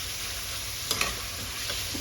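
Pork and sliced cabbage stir-fry in a hot pan, giving a steady, close sizzle with a couple of brief scraping stirs, and no talking.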